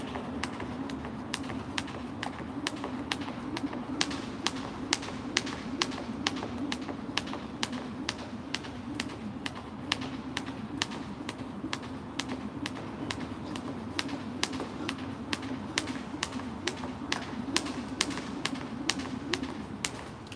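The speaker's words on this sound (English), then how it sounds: "Can't even talk while I'm spinning this rope." A heavy jump rope whips around and slaps the floor in an even, rapid rhythm of sharp taps, several per second, close by and steady over a low background hum.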